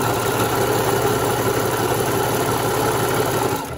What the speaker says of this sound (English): I'm using that stretch stitch and sewing straight down the middle, all the way down